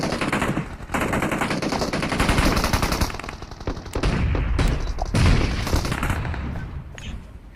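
Sustained bursts of video game gunfire, rapid machine-gun rattles and repeated shots, play loud and nearly continuous throughout with brief gaps, with no voices over them.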